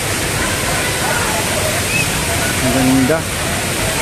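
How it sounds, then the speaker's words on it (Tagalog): Isarog Falls in Mt. Isarog Natural Park gives a constant, full rush of falling water close by, with a brief voice speaking over it. "nandito kami sa falls. Sa may Isarog Falls."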